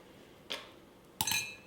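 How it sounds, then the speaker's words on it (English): Hair clips drop into a small glass, giving two quick faint clinks about a second apart, the second brighter and ringing briefly, in a quiet room. "Have a little glass here for my clips."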